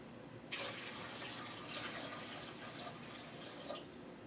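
Purified water pouring into a cooking pot from a container in a home kitchen, a steady close splashing stream that starts abruptly and runs on unbroken, with a brief bump near the end.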